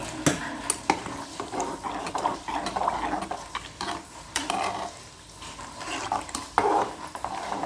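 A spoon scrapes and clinks against a metal pressure cooker in irregular strokes as bisi bele bath ingredients with water and salt are stirred, with soft sizzling between the sharp taps.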